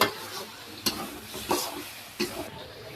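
Battered brinjal fritters (beguni) frying in hot oil give a steady, fairly quiet sizzle, broken by three or four brief clinks or scrapes from a utensil at irregular moments.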